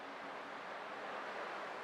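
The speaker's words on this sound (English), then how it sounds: "I can still clearly hear the sound of the waves." Ocean waves in the video game Honkai Star Rail, a steady broadband wash of surf with a wind-like hiss, constant and moderately loud throughout with no clear individual breakers and no voices.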